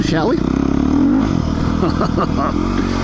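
A Beta 390 RR-S dual sport motorcycle ridden on dirt, its engine droning loud and close and rising with throttle, with a steady rough mechanical rumble throughout.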